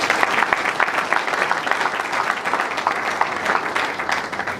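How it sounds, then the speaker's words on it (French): An audience at a youth entrepreneurs' innovation forum claps steadily and fairly loudly, a dense, continuous round of applause from a hall crowd lasting throughout. "Applaudissons le programme."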